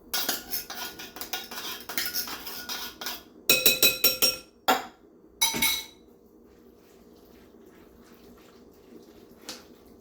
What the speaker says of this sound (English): we're going to take the cream of mushroom condensed soup and mix that in